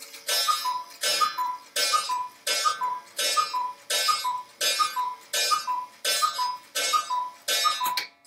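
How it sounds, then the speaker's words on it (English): A cuckoo clock ticks steadily on its own, an even loud tick-tock repeating about once a second throughout with no voices. "For those of you who don't like the sound of a cuckoo clock or have misophonia and just don't like certain sounds at all, I do apologize."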